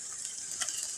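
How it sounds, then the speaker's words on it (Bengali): Jute and pumpkin leaves fry in oil in a wok and are stirred briefly, producing a soft, bright sizzle with a faint scrape near the middle, short and close. "তেলটা দিয়ে একটু নেড়ে চেড়ে নামিয়ে নেব"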